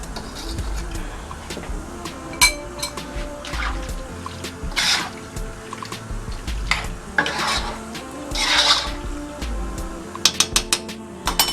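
Curry shrimp being stirred in a pot with milk, a spoon scraping and clinking against the metal sides in irregular strokes with soft wet sloshing, close up and with no talking.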